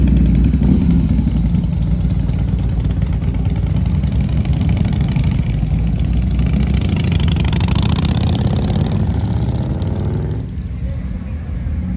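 A motorcycle engine idles steadily and loudly at the Thunder Beach rally in Panama City, after water was cleared from its ethanol fuel. The even rumble runs close and continuous, dipping slightly near the end.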